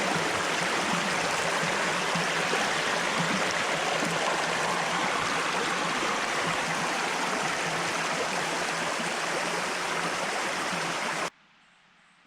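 A forest creek flows steadily over rocks, a close, dense broadband rush with a constant level and no voices, cutting off abruptly just before the end.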